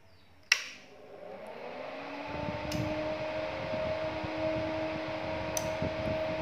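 A class TD power amplifier with a protect fault switches on with a sharp click, then its cooling fan spins up into a steady whir with a rising tone and faint ticks, close and continuous.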